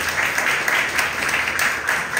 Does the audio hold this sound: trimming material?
no